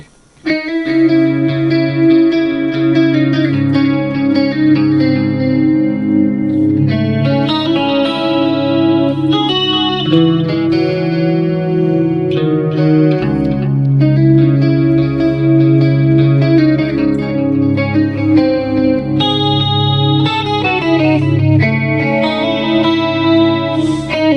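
Electric guitar played through a BOSS eBand JS-10 with shimmering 80s-style chorus and echoing 400 ms delay, chords and melodic lines ringing out continuously with a lush, wide tone.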